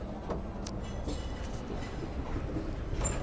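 Rumble of the Agra–Ahmedabad special passenger train running along the track, a steady, fairly quiet low roar with faint rattles and clicks heard from on board, with no talking.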